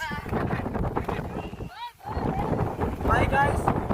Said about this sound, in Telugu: చల్లని గాలి వస్తుంది, గాలి వస్తుంది.